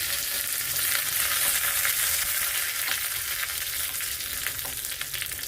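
Curry leaves, mustard seeds and dried red chillies spluttering in hot tempering oil, a loud, dense, continuous crackling hiss right up close, with no talk.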